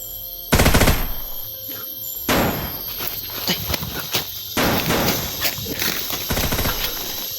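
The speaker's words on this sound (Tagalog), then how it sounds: "Putok na Mari." Sharp gunshots crack in a loud burst, followed by a string of quicker pops and bangs, some close and some farther off.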